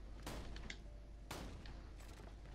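Super shotgun blasts in Borderlands: The Pre-Sequel, two loud, sharp booming shots about a second apart with a third fainter burst near the end, each spraying a broad crackling roar.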